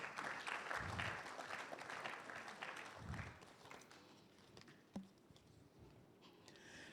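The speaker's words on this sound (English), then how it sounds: "Let's welcome him with a round of applause." An audience at the release of a Ghana Statistical Service governance report applauds to welcome the government statistician, producing a faint, soft patter of clapping that fades over several seconds, heard from a distance.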